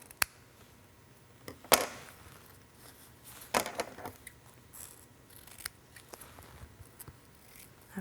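A few sharp scissor snips ring out close by as zipper tabs are trimmed while sewing a waterproof backpack, scattered irregularly over a quiet background, with softer rustling between cuts.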